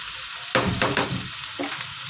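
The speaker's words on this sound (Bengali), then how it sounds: "কাজুগুলো আমার এই সবজির মধ্যে দিয়ে দিলে একটু ভাজা ভাজা হয়ে যায়" Cashews fry with vegetables in a pan for paneer fried rice under a constant sizzle, broken by a few bursts of stirring and scraping close by.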